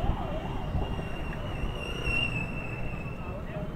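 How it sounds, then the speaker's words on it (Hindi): An ambulance siren wails steadily in traffic along a road between Moga and Bathinda, heard from a moving motorcycle, its rising and falling tone sitting above engine and wind noise throughout. "एम्बुलेंस"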